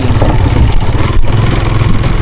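A loud motorcycle engine roars continuously nearby while riding a rough, potholed rural road, with rattling and clatter mixed into the rumble.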